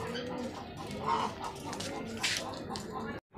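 A rooster clucks close by among pet pigeons in a loft, giving a few short, throaty calls over soft cooing and rustling. Someone talks quietly in the background.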